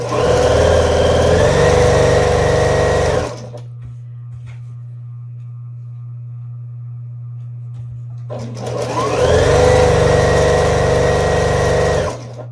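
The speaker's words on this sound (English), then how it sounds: "am sewing with my machine of choice. Most of my piecing gets done on this machine. This is Pfaff" A Pfaff Hobby 120 sewing machine piecing quilt fabric runs in two loud, fast whirring bursts, with a low steady hum during the pause between them.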